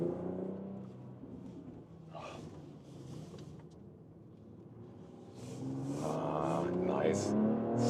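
A BMW X3 M50 with a six-cylinder engine accelerates hard on a slightly wet road. Its engine note rumbles and swells, climbing steadily toward the end, with people talking over it.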